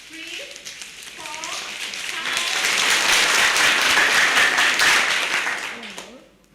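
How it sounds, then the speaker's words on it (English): An audience at an International Children's Day celebration claps with the whole hand, the sound swelling from scattered taps into a full, loud burst of applause and then fading out. A voice speaks briefly at the start and again near the end. "we'll start with one finger, moving on until we do the whole hand clap"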